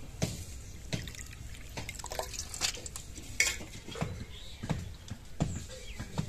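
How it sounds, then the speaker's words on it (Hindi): Fish being rinsed in a basin with poured water, giving irregular splashing and sloshing with clinks of the metal vessel, a series of close, moderately loud bursts without talk. "पानी डाल करके मछली को बढ़िया से धो लेते हैं।"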